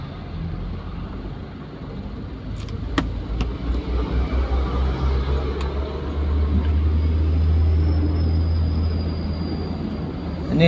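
A truck rumbles close behind in city traffic, its deep engine drone rising and swelling steadily, heard from inside a car amid ongoing road noise.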